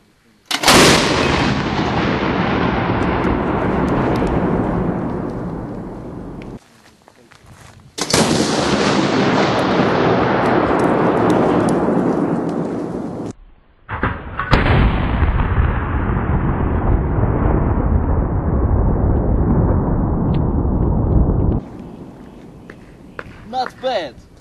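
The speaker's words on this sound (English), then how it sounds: "we've got our 40mm Bofor aimed at our mannequin, who's wearing some FPSO gear" A 40mm Bofors gun fires three loud, booming shots at a mannequin dressed in gear, each blast rolling out into a long decaying echo lasting several seconds before the next.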